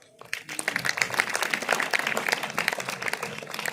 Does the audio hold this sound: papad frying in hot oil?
no